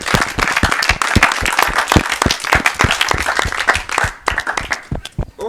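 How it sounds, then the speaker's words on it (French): Loud, rhythmic clapping from a worship gathering applauding for Jesus, sharp claps landing in a brisk beat, close and energetic throughout. "On applaudit très, très fort pour Jésus"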